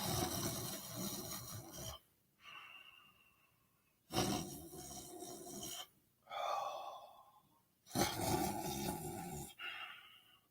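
A voice imitates snoring with loud, raspy inhaled snorts alternating with softer breathy exhales, repeating in a slow rhythm about every two seconds, close and alone.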